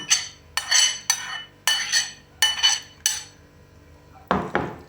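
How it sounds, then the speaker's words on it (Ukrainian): Cheese and fried onion khachapuri filling being stirred in a bowl, with a spoon clinking and scraping against the dish in about six close, sharp strokes, then a final pair of louder knocks. "І тепер гарно все перемішую."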